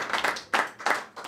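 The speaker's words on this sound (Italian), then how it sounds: "Facciamo un applauso al maestro Tempio." A brief round of applause for teacher Salvo Tempio, several quick bursts of hand clapping close by, rising and fading in uneven waves with no talk over it.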